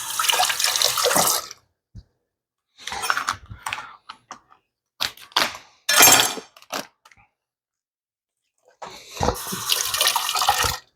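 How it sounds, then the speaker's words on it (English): Tap water runs over white fish fillets during rinsing, coming in several separate bursts of splashing flow with short quiet gaps between them and a longer final pour. "I like to give it a quick rinse."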